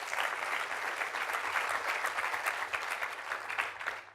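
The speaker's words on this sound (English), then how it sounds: "Let's give him a round of applause." A live audience applauds a finalist as he is brought on stage at a presentation event, with steady, dense clapping that holds evenly throughout and no voices on top.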